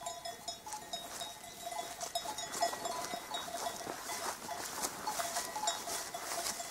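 Sheep grazing in a hilly field near Dura in Manyas, Balıkesir, with scattered bells clinking and light patter over a steady outdoor background, no talk.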